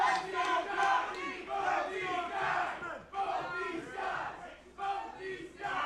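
A divided wrestling crowd at a six-man tag team match chants loudly and rhythmically in repeated two-part call-and-response phrases, filling the arena steadily with a brief dip midway.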